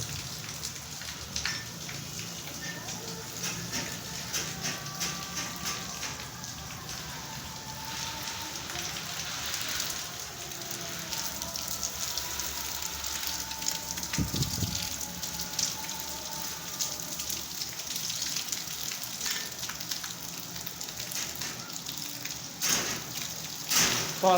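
Heavy rain in Jhelum, Pakistan, on 14 August, steadily patters and hisses on surfaces nearby for the whole stretch, with occasional louder splashes and faint background noise.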